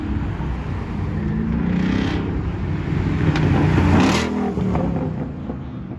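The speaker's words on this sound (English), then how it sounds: "Got the Aston Martin coming up." An Aston Martin at a busy car meet of JDM cars and exotics drives up, its engine rumbling and revving loudly as it nears, swelling to a peak before easing off, with steady crowd and traffic noise behind.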